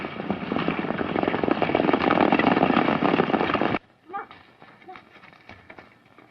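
Horses ridden at a run along an open Western trail, a dense rumble of hooves that holds steady for several seconds, then cuts off abruptly to a few faint scattered sounds.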